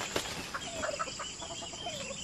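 Chickens on a farm in the Philippines cluck and squawk at close range in short, repeated calls over steady outdoor background noise. No one speaks.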